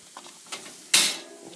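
Sawdust wood chips inside a Smokenator smoker in a Weber kettle grill give a short, sharp burst of hiss near the middle, after a few faint mechanical clicks and scrapes.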